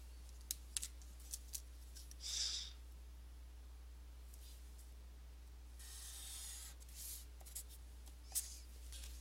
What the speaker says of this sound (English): So now I'll draw a line and connect those dots.